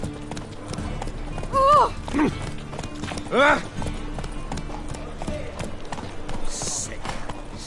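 Roach, a horse in a video game, gallops with rapid, steady hoofbeats throughout, broken by short exclamations from a man and an in-game horse snort.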